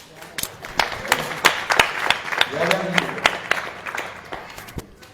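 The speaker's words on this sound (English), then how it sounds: "Applause." Scattered, uneven clapping from an audience at an English-translated hari-katha gathering at a resort in Jaipura, with distinct individual claps rising and thinning over a few seconds.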